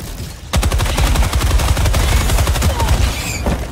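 Mortar explosions in the shooter game Helldivers 2, a rapid series of loud, punchy blasts in a rhythmic barrage, close and continuous after a brief quiet opening.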